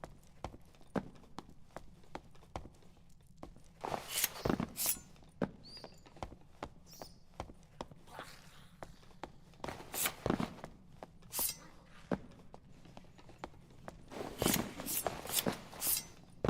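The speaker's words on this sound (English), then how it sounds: "Did I hear footsteps or something?" Footsteps in the dungeon game Dark and Darker, a run of faint, scattered steps and clicks that swell into brief louder bursts near the middle and end, heard alone over a low ambient hum.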